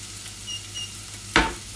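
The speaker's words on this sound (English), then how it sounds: "that's the red cabbage cooking nicely" Red cabbage cooks in butter in a pan with a faint, steady sizzle, and a brief louder burst of spitting and crackling near the end.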